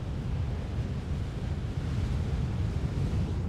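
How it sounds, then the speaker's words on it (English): Ocean waves rolling in just outside a getaway lodging, a continuous low rushing surf mixed with wind buffeting the microphone, with no voices. "You can hear the waves in the back."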